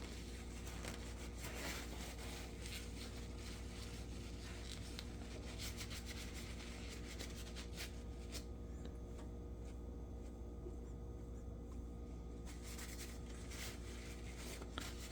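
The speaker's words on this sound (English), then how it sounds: "get the paper towel and just start wiping away all the excess oil" Paper towel wiping excess oil off a pocket knife, a continuous soft rubbing and scraping with irregular strokes and faint ticks, close and quiet throughout, no talk.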